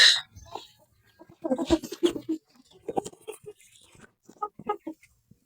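One-month-old Rhode Island Red chicks peeping and clucking close by in short, irregular bursts, with one loud call at the start and quiet gaps between.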